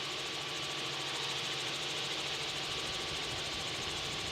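A helicopter in flight over Fort Worth, with a constant loud engine and rotor drone, a dense even hum filling the cabin with no pauses and no talk.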